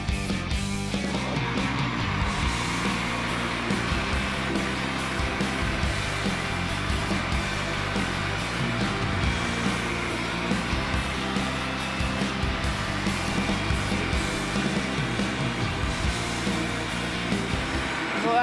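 An electric mixer whirs steadily and loudly for a long stretch, beating sweet pancake batter as flour is added.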